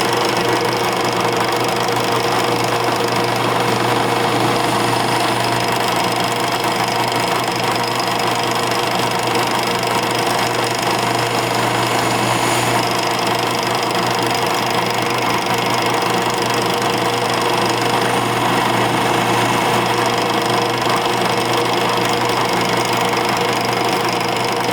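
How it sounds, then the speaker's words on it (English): A drill bores through a plastic swimbait to make a rattle chamber, a continuous loud motor whine with a steady grinding buzz held throughout, near and unbroken, no voices. "You want to drill through each side a little ways at a time."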